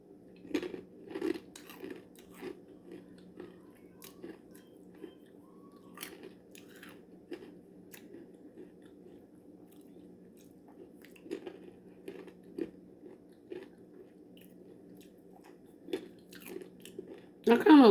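Someone bites and chews crunchy peanut-and-lime flavored snacks, with irregular close crunches and soft chewing over a low steady hum, and a louder rustle at the very end.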